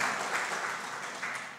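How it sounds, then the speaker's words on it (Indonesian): Applause from a talk show audience honouring teachers from Banyumas Regency, Indonesia: a brief, fairly faint patter of many hands clapping together at an even rate, heard from a distance in a hall. "tepuk tangan untuk guru penggerak Kabupaten Banyumas"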